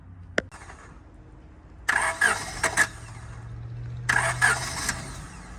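A 1997 Honda Civic hatchback engine cranks in two rough, sputtering bursts after a sharp click, nearby and fairly loud, without fully catching.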